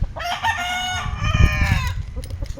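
A rooster crows loudly and close by, one long drawn-out call that rises and falls, with clucking and shuffling from other fowl beneath it, in a pen of fighting cocks, no talk.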